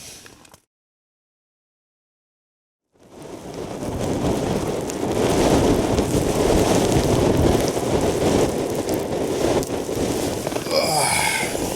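Wind blowing at an icy winter wild camp on Great Mis Tor, Dartmoor: after a brief silent gap, a loud, continuous roaring rush of wind buffets the microphone and holds steady to the end.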